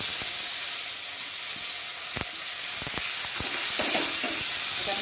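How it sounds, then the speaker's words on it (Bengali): A large whole onion frying with garlic in a pan for a fish-head curry, sizzling steadily up close with scattered scraping and stirring knocks. "পেঁয়াজটা ভাজা হয়ে গেছে"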